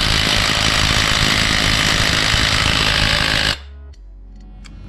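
A high-torque impact wrench rated around 750 foot-pounds hammers continuously and loudly at a stuck exhaust bolt, a dense rattling burst that runs for several seconds and then cuts off abruptly into near silence.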